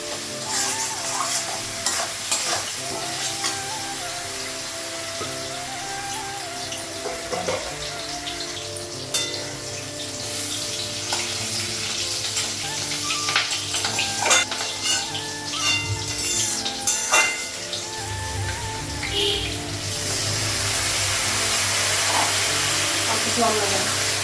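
Garlic paste, salt and turmeric frying in a pan in a home kitchen, with continuous sizzling and repeated scraping stirs at close range; a voice is heard faintly in the background.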